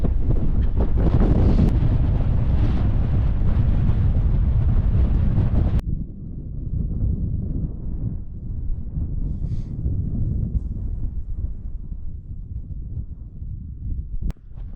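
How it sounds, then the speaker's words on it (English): Wind gusting hard outdoors at a freezing subzero winter wild camp in the Lake District, a loud continuous rumbling buffet against the microphone that eases slightly after the first few seconds but keeps roaring throughout. "wind's blowing it about, blowing it all over"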